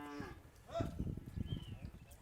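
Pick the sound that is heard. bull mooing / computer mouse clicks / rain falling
bull mooing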